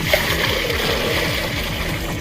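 Salty water being filled and carried from inside a railway boundary, a steady close sloshing and splashing with rhythmic swirling churn and no voices over it.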